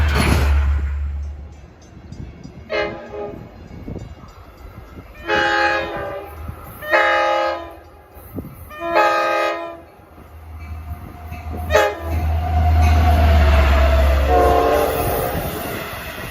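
A Long Island Rail Road DM30AC diesel locomotive with a K5L horn sounds several loud chord blasts, short and longer, over the deep rumble of the passing train.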